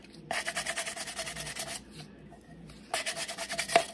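The rim of a coffee mug is buffed with a soft, close rubbing scrub, rhythmic strokes in two bursts separated by a short pause.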